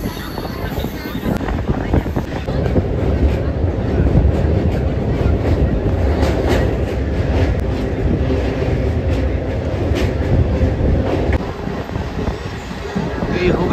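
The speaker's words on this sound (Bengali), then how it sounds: "আমরা এখন 4টের সময় লোকাল ট্রেনে আমরা ব্যান্ডেল যাব" A local train runs on its rails on the way toward Bandel, a steady rumble with wind noise from start to finish, loud and close, with faint voices in the background.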